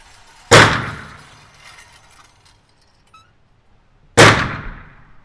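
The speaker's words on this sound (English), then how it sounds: "What a soft shooting gun." Two sharp, loud shots from a Phoenix Drake 9mm pistol fired at a target about seven to eight yards away, spaced several seconds apart, each with a brief ringing decay and near-silence between them.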